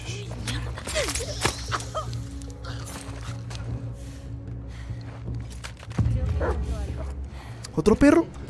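A dog in the video game The Last of Us 2 barks and yips in short bursts. Whimpers follow amid squelching combat sounds, and a voice speaks over parts of it.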